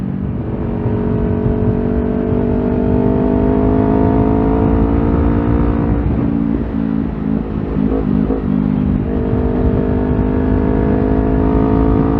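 Kawasaki Ninja 400 fitted with an SC Project exhaust, ridden with a loud, continuous engine drone that shifts pitch as the revs fall and climb again midway.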